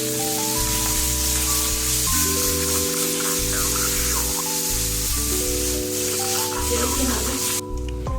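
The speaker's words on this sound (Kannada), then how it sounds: "ಪನ್ನೀರೆಲ್ಲ ನೀಟಾಗಿ ಒಂದು ಸೈಡ್ ಫ್ರೈ ಆದಮೇಲೆ ಅದನ್ನು ನೀಟಾಗಿ ಮಿಕ್ಸ್ ಮಾಡಿಕೊಂಡು ಡಬಲ್ ಸೈಡನ್ನು ನೀಟಾಗಿ ರೋಸ್ಟ್ ಮಾಡ್ಕೊಳ್ಬೇಕು" Paneer fries and roasts in a pan with a steady, bright hiss that runs continuously under prominent background music, with faint spatters and scrapes mixed in.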